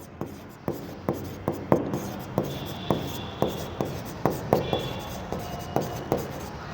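Chalk or marker strokes on a board during an accounting lesson, a steady series of sharp, regular taps and short scrapes, close and fairly loud, with no speech over them.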